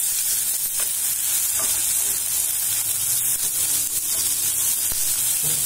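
Dal with ginger and garlic being stirred and sautéed in a pan for Maharashtra-style paruppu rice, giving a steady, continuous sizzle and frying hiss with soft scraping stirs, close and alone.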